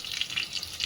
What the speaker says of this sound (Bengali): এখন এগুলো ভাজা হচ্ছে।